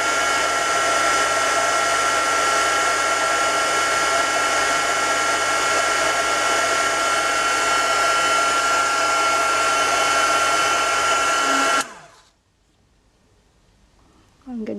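A heat tool blows steadily and loudly for about twelve seconds while melting embossing powder on a rotated paper bead, then cuts off abruptly into near silence.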